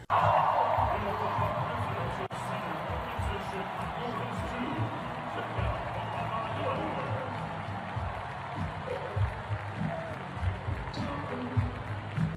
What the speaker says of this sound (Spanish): Ahora quiero que veas esta ovación de un ángulo distinto.